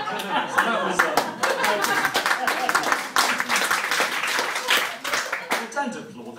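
Comedy club audience at a stand-up show bursts into continuous clapping mixed with chuckles and chatter, loud and close, sustained for several seconds before tapering off.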